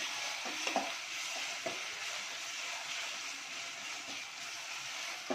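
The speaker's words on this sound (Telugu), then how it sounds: "అదే టైంలో నేను జింజర్ గార్లిక్ పేస్ట్, అల్లం వెల్లిగడ్డ పేస్ట్ వేసేస్తున్నాను" Ginger garlic paste frying with browning onions for a chicken curry, a steady close sizzle running throughout with a few soft stirring scrapes against the pan.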